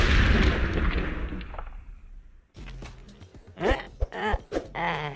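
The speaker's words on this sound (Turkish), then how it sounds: "Lan bomba koymuş şerefsiz!" A cartoon bomb goes off in an Among Us animation: a loud, heavy rumbling blast fills the opening seconds and fades out, then after a short silence a string of sharp bangs and cartoonish effects follows.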